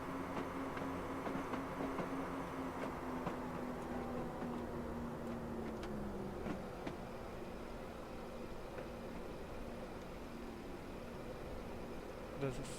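A steady rumble of a Class 159 train engine in Train Simulator 2015, between Exeter St Davids and Newton Abbot, with rhythmic track clatter and a faint whining tone, continuous and even throughout.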